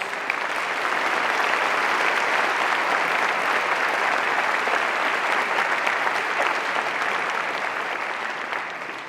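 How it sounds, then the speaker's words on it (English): A large audience applauds at a Cardiff University graduation ceremony: dense, steady clapping fills the hall for the whole stretch, loud and even, tapering only slightly at the very end. "The applause is welcome but premature."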